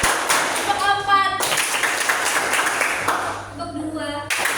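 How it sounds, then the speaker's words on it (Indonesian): A group claps hands together in a rhythmic chant game, with shouted voices over the claps and bursts of cheering, close and loud throughout. "Tepuk tangan untuk kita semua"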